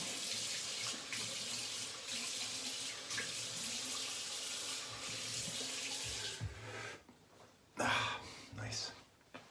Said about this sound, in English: Gonna rinse the alum off.